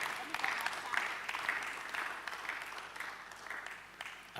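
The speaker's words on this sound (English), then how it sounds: "Round of applause for her." Audience applause for a speaker at a leadership and planning talk: a steady wash of clapping that holds at an even level for several seconds and fades slightly toward the end.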